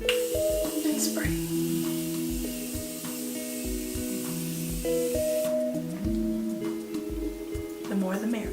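A steady, misty hiss of a makeup setting spray bottle runs for several seconds, then cuts off, over continuous background music.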